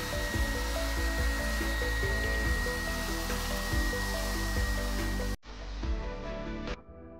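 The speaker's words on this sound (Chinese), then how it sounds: "拿起吸尘器，几下便把桌面上的纸屑清理得干干净净" A handheld vacuum cleaner, worked by a household AI robot, clears paper scraps off a tabletop with a steady, loud, whining drone. The drone cuts off abruptly, then is followed briefly by a thinner, higher hum.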